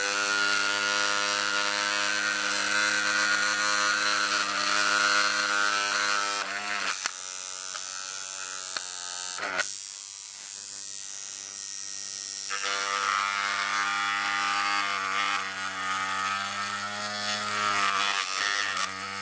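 A rotary tattoo machine running at high voltage, its needle driven into plastic: a loud, steady electric buzz holds throughout, dipping briefly in pitch and level partway through before climbing back up.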